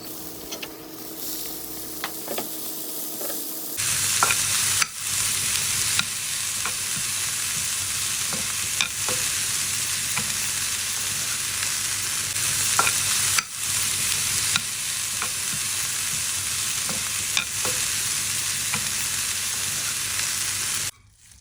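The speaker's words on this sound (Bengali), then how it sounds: "এখন আমি পেঁয়াজটা ভেজে নেব দিয়েছি চারটা কাঁচামরিচ" Onion and four green chillies frying in a pan for a chitoi pitha accompaniment, a quiet start giving way to a steady, loud sizzle with intermittent stirring scrapes, running on without talk.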